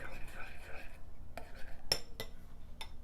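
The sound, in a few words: stirring hot bubbly cheese sauce in a pot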